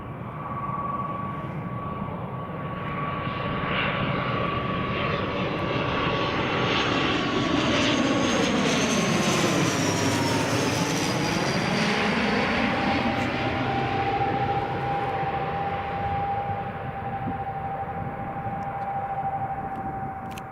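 An ATR turboprop airliner on landing approach at Glasgow Airport, a loud sustained engine drone with a steady propeller whine that swells as it passes close by, then recedes, with no talking.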